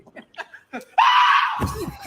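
A squirrel lets out a loud, sustained shrill scream from a played video during a livestream, preceded by a few short soft chirps and followed by a voice speaking.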